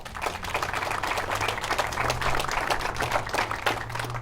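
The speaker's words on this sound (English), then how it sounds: "So a huge round of applause to them." Applause for the design engineers at a bridge ribbon-cutting ceremony, a steady outdoor wash of clapping holding for several seconds with a low hum underneath.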